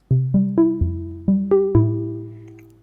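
A plucked synth melody of seven bright, short-attack notes with a shimmering, slightly wavering chorused tone, each note ringing and decaying, played alone.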